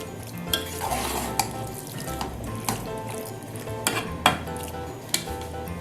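A spoon stirs chicken kachnar in a cooking pot over a steady frying sizzle, with sharp metallic clinks and scrapes against the pot at irregular intervals, close and clear.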